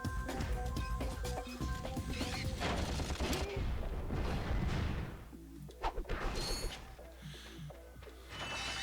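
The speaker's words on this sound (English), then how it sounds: "when you kill a small mook, they die with an explosion" Enemies in the Ratchet & Clank video game blow up when killed, giving a rapid barrage of explosive blasts, crashes and gunfire-like bursts. The blasts are loud and dense at first, then thin into scattered hits over a low hum.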